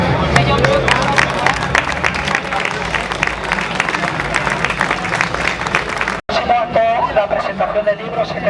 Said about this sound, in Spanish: acabar con un aplauso a Matilde Landa